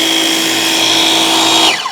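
A DEWALT 20V MAX cordless battery-powered electric pressure washer runs on its high setting, giving a loud, steady motor whine with spraying hiss, then winding down abruptly at the end.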